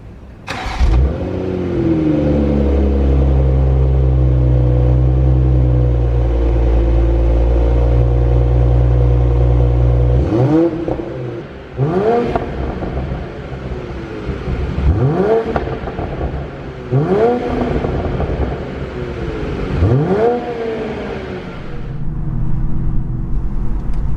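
A BMW Z4 M40i convertible runs with a steady, loud engine drone, then revs up and drops back again and again in rhythmic pulls.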